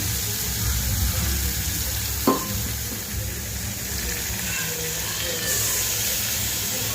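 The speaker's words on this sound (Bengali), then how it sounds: "এটা একটু ধোয়া জলটা দিয়ে দিলাম।" Rinse water poured into a hot pan of onion, tomato, cumin, coriander and ginger sets off a steady close sizzle, with a brief sharp clink partway through.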